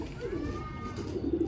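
Pigeons feeding on grain under a light in the evening give soft, low cooing calls, close by and continuous through the brief moment.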